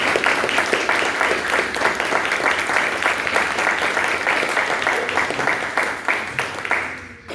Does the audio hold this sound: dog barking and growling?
no